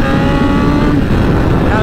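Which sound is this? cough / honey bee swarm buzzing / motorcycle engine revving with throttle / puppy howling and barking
motorcycle engine revving with throttle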